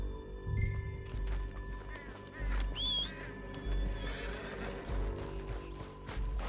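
A horse whinnies with a rising, wavering call over a low rumbling background, with faint clip-clop and other animal noises around it, in the video game Red Dead Redemption 2.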